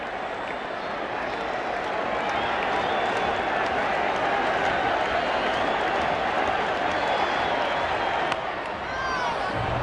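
A baseball stadium crowd at the 1986 ALCS Game 5, Red Sox at Angels, in extra innings, giving off a steady, broad roar of cheering and applause, somewhat subdued, continuous throughout.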